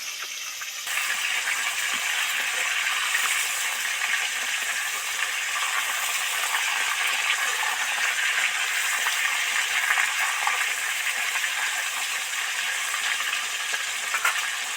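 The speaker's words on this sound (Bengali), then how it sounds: "এখন দশ মিনিট কুড়ি মিনিট ধরে ধরে ধরে ভাজতে লাগবে তবেই ভালো ভাজা যাবে" Snakehead fish head frying in hot oil, a steady dense sizzle with faint crackles and small pops that holds evenly without pause.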